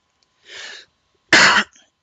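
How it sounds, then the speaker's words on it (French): Two short coughs from a slightly ill man, the first a softer, breathy cough and the second, after a brief pause, a louder and harsher one, close to the microphone in an otherwise quiet room. "Excusez-moi pour avoir toussé, je suis un peu malade."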